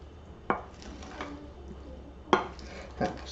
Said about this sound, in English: So we just give this a quick stir.